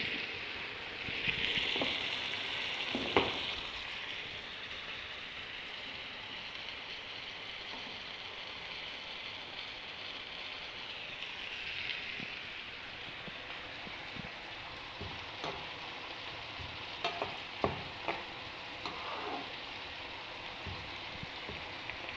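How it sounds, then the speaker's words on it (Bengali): Onion and half a tomato fry for a fish curry, a faint, steady sizzle that crackles on for a long stretch with scattered small pops and clicks. "পেঁয়াজটা তাহলে ভাজা ভাজা হয়ে যাবে, একটু অর্ধেক টমেটো দিচ্ছি"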